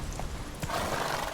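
A horse in a video game set in Skellige gives a short whinny over soft clip-clop hoofbeats, close and brief.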